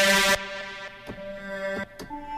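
Distorted Tronix synth tone with steady harmonics, opening on a bright noisy burst and then holding sustained notes, broken by short transient hits, with no voices.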